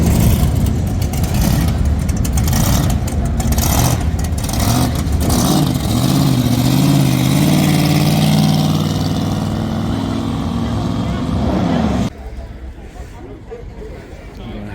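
A built race Chevrolet Camaro's engine revs loudly and steadily at close range, rising in pitch through the middle before cutting off abruptly near the end, with crowd chatter and background babble underneath.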